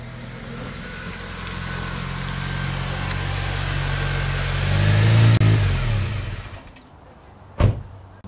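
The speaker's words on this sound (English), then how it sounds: "This week's project car is a 2006 Honda Civic Si Coupe." A 2006 Honda Civic Si Coupe with a VTEC engine idles with a steady low hum, then revs up loud and close around the middle, falls away, and ends with a sharp knock near the end. No one talks.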